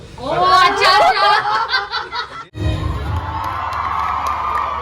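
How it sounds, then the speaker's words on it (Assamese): A large crowd shouts and cheers loudly, with excited voices overlapping, then settles into a constant roaring din of many people. "এয়া চিঞৰ শুনিছেনে আপোনালোকে"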